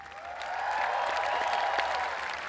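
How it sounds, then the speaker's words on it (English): Applause and cheering from a summit opening-ceremony audience in Bangkok for a children's choir, swelling in after a moment and holding steady at a moderate, slightly distant level. "Give them a big cheer."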